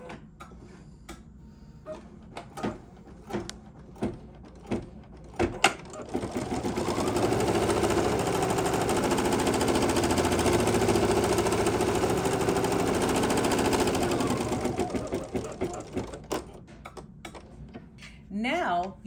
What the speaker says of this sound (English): And now let's stitch the tack down stitch.